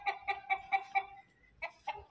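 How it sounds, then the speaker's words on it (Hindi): A hen clucks nearby in a quick, even series of five notes, pauses briefly, then clucks a few more times. "टोटल 10 मुर्गियाँ है।"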